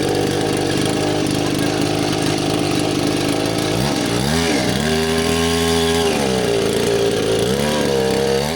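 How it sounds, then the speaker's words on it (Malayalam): Small engine of a homemade water jet surfboard, built from scratch, runs steadily on a test stand, a loud continuous buzzing drone with rising and falling revs partway through, alone and close up. "ഇനി നമുക്കിത് എൻജിന് വെച്ച് സെറ്റ് ചെയ്ത് വാട്ടർ ജെറ്റുമായിട്ട് കണക്ട് ചെയ്തിട്ട് ടെസ്റ്റ് അടിച്ച് നോക്കാം."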